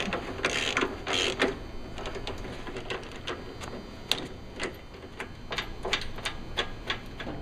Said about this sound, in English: We're going to start here by removing these two bolts